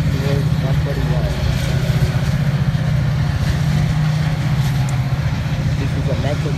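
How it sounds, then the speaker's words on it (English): A Metra F40 diesel locomotive, unit 141, at Mount Prospect runs close by with a loud, steady, low engine rumble and throbbing harmonics that hold without a break. "this engine sound is very loud of this Metra locomotive"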